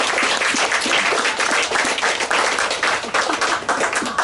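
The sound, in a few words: wedding guests' round of applause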